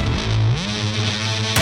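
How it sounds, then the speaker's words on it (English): Heavily distorted electronic music production in Ableton Live, a gritty, saturated tone with a gliding pitch bend, loud and continuous with no voices. "Love the distortion."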